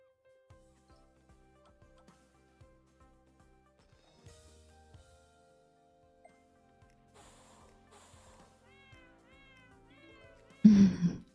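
A cat meows in the video game Amy's Pet Clinic, a sudden loud close cry at the end after quiet stretches of soft ticks, chimes and small interface sounds.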